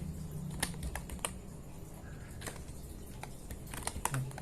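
Commands are typed on a computer keyboard while setting up an Ubuntu Linux server, a close run of irregular key clicks with a few harder taps over a steady low background hum.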